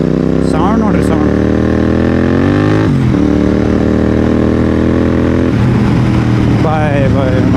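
A modified Royal Enfield Continental GT 650 with clip-on handlebars revs loudly and up close, its engine swelling and settling back to a throbbing idle several times while a voice briefly speaks over it.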